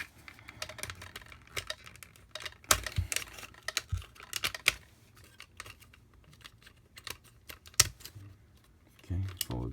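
Plastic parts of a Transformers Titans Return Soundwave toy being snapped and clicked into place, a scattered run of small, sharp clicks and taps at close range, some louder snaps standing out among the fiddling.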